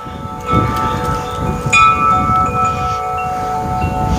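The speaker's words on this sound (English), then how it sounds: "How dare that wind chime interrupt me?" A wind chime ringing outdoors, with a few bright metallic tones struck and left to decay slowly over a low breezy rumble, no voices.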